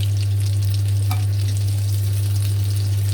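Holy basil frying in hot oil in a home kitchen, a steady dense sizzle with stirring, close and constant for the whole stretch, with a strong low hum underneath and no talking.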